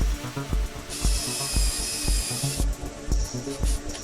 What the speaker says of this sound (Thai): เจาะนำก่อนนะครับ